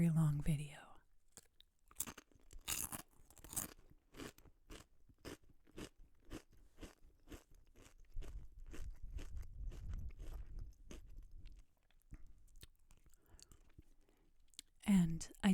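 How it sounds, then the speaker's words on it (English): Crunchy chips being bitten and chewed up close in a quiet, whisper-style setting, with a long run of sharp, evenly spaced crunches followed by softer chewing, and brief speech at the start and end. "I'm going to eat a couple more chips"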